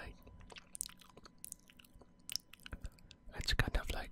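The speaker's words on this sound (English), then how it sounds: "it's kind of like chewing." Close-miked ASMR mouth sounds resembling chewing, with soft wet clicks and smacks in an irregular rhythm, quiet and intimate, growing busier and louder toward the end.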